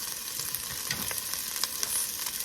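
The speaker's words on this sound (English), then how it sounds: "We're going to fry down" Half an onion frying on a Blackstone-style griddle, a steady soft sizzle with faint scraping and crackles, alone and fairly close.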